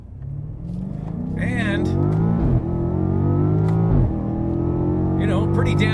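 The engine of a new BMW M5 revs hard, sweeping up in pitch through several gear shifts, each followed by a fresh climbing growl, close and loud, with a voice speaking briefly over it.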